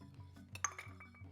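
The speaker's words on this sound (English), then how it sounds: "Get a piece of ice in our glass here." A single ice cube drops into a rocks glass with a bright clink, one close, quiet knock and brief ring in a short moment.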